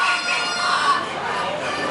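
Geese at a poultry judging show give a continuous harsh, nasal chorus of honking and calling, fairly loud and steady throughout with no clear pauses.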